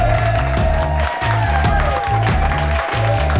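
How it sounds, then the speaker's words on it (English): Studio audience clapping and cheering for a guest on a talk show, heard under loud, pulsing theme music with a heavy beat. "So please give a round of applause for Miss Maria Viola Jefferson."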